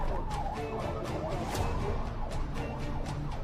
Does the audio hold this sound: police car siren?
yes